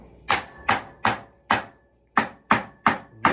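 A knife chops avocado sharply on a cutting board, eight quick crisp strikes in a loose rhythm with a short gap midway, close up.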